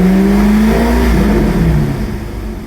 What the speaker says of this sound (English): you just want to test the pedal slowly and then give it a good rev